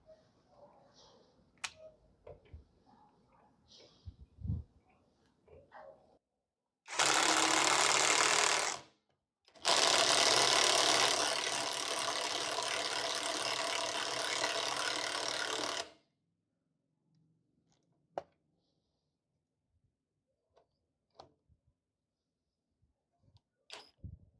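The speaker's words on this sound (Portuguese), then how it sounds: "agora a gente vai fazer o aperto aqui, o uso em 2 parafusos 6x60 de cabeça sextavada também, claro, número 11 milímetros" Power driver or ratchet with an 11 mm socket driving two 6x60 hex head screws into wood, two loud bursts of steady mechanical whirring, the first short and the second about six seconds long, between quiet clicks and handling noise.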